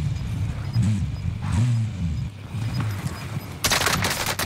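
Gunfire in the video game Warzone: a burst of rapid automatic shots near the end, preceded by busy game ambience with low engine-like rumbling and faint distant shots, loud and close.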